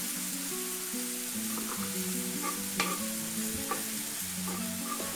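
Mushroom and shallot stuffing for zucchini sizzles gently in a pan while a utensil stirs it, soft scrapes and clicks over a low steady frying hiss, close up with no voices.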